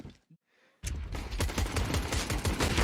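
Sustained rapid gunfire in a Counter-Strike match at the PGL Major Antwerp, a dense loud burst of shots starting abruptly after a brief near-silent moment and continuing to the end.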